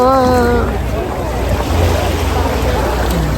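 Sea waves at a beach in the Bahamas roll and wash in a steady, loud rush mixed with wind buffeting the microphone, with a brief voice at the very start.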